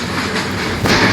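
Loud, steady rumble of a moving train heard from near an open door, with a dense roar and faint rhythmic clatter of wheels on the rails.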